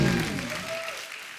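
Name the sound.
audience applause on a comedy show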